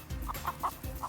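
Chickens on a poultry farm raising around 9,000 birds cluck in a short series of four or five near, fairly loud calls over low rustling and background noise.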